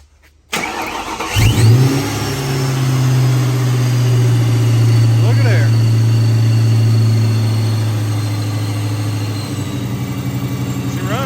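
Ford Mustang Mach 1 fitted with a newly installed Procharger supercharger cranks and fires up with a sharp burst, then settles into a loud, steady, close idle with a faint chirp or two over the drone.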